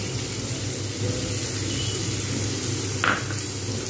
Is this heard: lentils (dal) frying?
yes